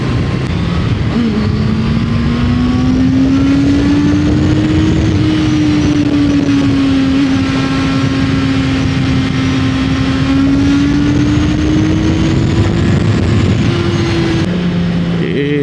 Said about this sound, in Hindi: there is so much traffic man